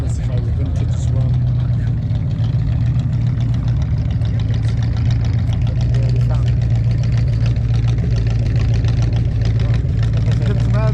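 An American-designed vintage car idles at an outdoor car show, its engine a steady, loud low rumble throughout, with people talking nearby over the running motor.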